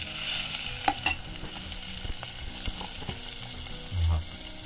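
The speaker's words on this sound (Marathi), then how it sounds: "आता बघा टमॅटो टाकलाय आणि मस्तपैकी सगळंच परतवून घ्यायचं।" Onion and tomato sautéing in a pan for a spicy dried-fish, aubergine and potato curry, with steady sizzling, a few sharp stirring clinks and a brief low thump near the end, no talking.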